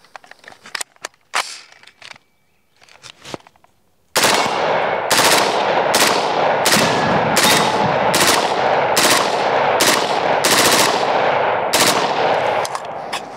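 An Orca rifle fires at Firebird targets downrange. A few scattered handling clicks and knocks come first, then a loud, sustained burst of rapid automatic fire runs steadily to the end.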